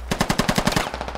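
A rapid burst of about eight automatic gunshots in a military video game, evenly spaced and punchy, loud and close with no talk over it.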